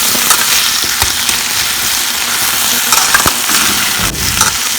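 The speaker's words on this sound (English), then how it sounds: "and fry for some time." Sun-dried mushrooms and potatoes fry in a pan with a little oil, giving a steady close sizzle with scattered crackles and soft scraping as they are stirred, no voices.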